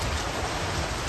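Heavy rain pours steadily through the night, a dense, even hiss of water striking surfaces with a low rumble beneath, constant and close with no voices.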